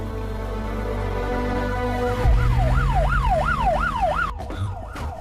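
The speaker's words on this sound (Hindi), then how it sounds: "ये तो पुलिस का सायरन है।" A loud wailing police siren sweeps up and down in a fast, repeating pattern, rising over rumbling vehicle noise.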